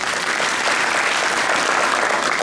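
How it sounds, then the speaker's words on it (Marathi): A roomful of students applauding one student in a classroom, a dense, steady wash of clapping that stays loud and even throughout with no voices breaking through. "त्या दिदीसाठी टाळ्या वाजवा जोरात"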